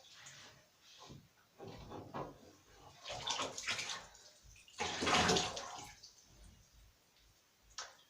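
A trombone gets washed in water, with intermittent splashing, sloshing and dripping close by, rising to a fuller rush of water midway, then a few scattered bumps and clunks.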